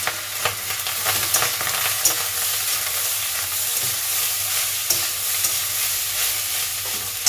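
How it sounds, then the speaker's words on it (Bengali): Ingredients being stirred and mixed with vinegar in a hot frying pan, a steady sizzle under scattered scraping clicks of a utensil, fairly close, with no talk. "দিয়ে এবার ভালো করে এগুলোকে মেশাবো"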